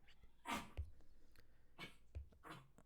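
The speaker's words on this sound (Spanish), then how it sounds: "mi perrito está tosiendo" Three or four short, harsh bursts from a dog, spaced apart over a few seconds, fairly quiet and heard on their own.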